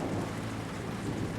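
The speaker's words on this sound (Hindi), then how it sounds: "बारिश हो रही है।" Steady rain falls at night around a broken-down car, a dense, even hiss with low rumbling underneath, continuous and fairly close, with no voices.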